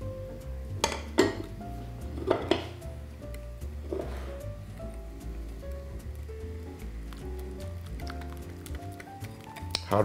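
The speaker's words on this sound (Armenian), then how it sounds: "Հարմենք այնքան, ինչև գնդերը քանդվեն ալյուրի։" A utensil stirs thin flour batter with a pinch of sugar in a bowl, made for batter-coated chicken breast, giving a few sharp clinks against the bowl and soft scraping over steady background music.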